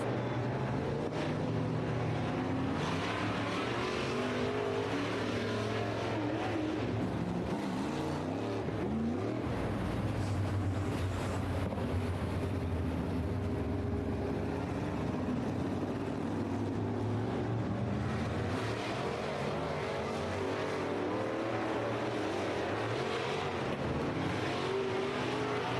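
Big V8 race cars at River City Speedway roar continuously around the track, engines rising and falling as they pass, loud and sustained from a distance with no talking.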